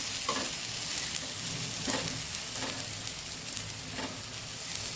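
Spinach and eggplant fry in a pan with a steady, close sizzle and crackle. Soft scraping and stirring sounds recur about once a second, and no one speaks.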